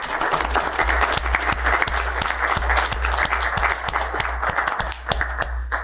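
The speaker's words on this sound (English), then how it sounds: "let's give her a round of applause" Applause breaks out at a Weber County commission meeting, a steady wash of many hands clapping with sharp individual claps standing out, filling the room continuously and evenly for several seconds.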